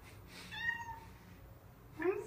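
A pet cat meows indoors, a clear drawn-out mew in the middle and another brief cry near the end, over faint background noise.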